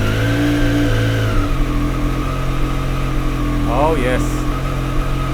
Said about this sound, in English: I'm gonna actually start the bike.